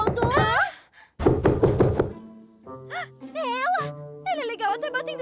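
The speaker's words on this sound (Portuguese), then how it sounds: "Batendo na porta." Knocking on a door in a Polly Pocket animated cartoon: a quick run of firm knocks, close and fairly loud, set among cartoon voices and bright music.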